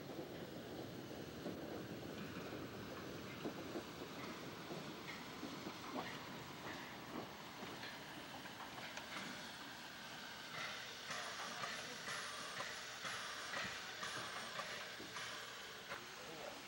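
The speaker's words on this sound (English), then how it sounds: "Here comes the train we're waiting for." Train arriving on a branch line between Nordhausen and Hasselfelde, a faint distant rumble with scattered wheel clicks and rail clatter that builds slightly toward the end, heard outdoors amid wind noise.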